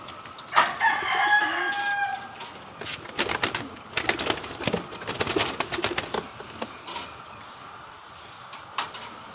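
Caged birds in Taiwan give loud chirps and clucking calls with busy fluttering, close to the mic and continuing through most of the stretch.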